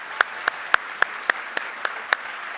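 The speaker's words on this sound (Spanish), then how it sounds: "ese aplauso es para nuestro Señor Jesucristo" Church congregation claps in a slow, evenly spaced rhythm, about eight or nine distinct sharp claps, clear and close.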